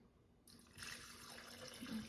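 Water runs from a tap into a vessel for a plant-based cheese mix, starting suddenly as a close, quiet rushing stream that grows fuller and steadier as it fills.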